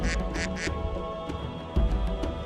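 Duck quacking sound effect: three quick nasal quacks up front, then a couple of scattered single quacks, loud and close against a low background hum.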